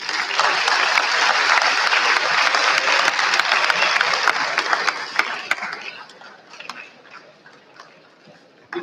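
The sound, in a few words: applause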